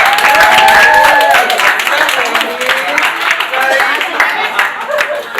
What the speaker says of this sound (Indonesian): Boleh tepuk tangan dulu dong semuanya.